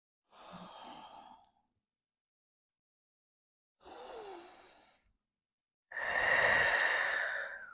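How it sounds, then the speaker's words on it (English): Three slow, deep breaths during a yoga practice, two softer airy exhales separated by pauses, then a louder, fuller sighing breath at the end, close and alone. "One more deep breath."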